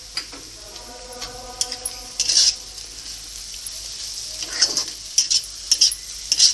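Desi fried rice with garam masala is stirred in a pan, a steady sizzle under irregular scrapes and clinks of the spoon against the metal, with a few louder bursts of stirring near the end.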